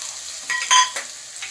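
Short bursts of sizzling and scraping as coriander, chilli and turmeric powders are stirred in a hot pan over medium flame, with a louder hiss in the middle, no talking.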